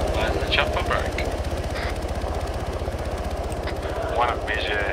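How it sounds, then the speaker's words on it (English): A military helicopter in ARMA 3 runs with a loud, steady rhythmic rotor thump and engine drone throughout, while voices talk over the radio on top of it. "why is the chopper broke?"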